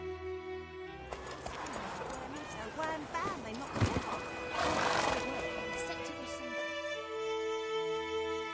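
A horse in The Witcher 3 gives a loud, wavering whinny over a steady game music bed, with clip-clop hooves in the mix and a voice speaking briefly.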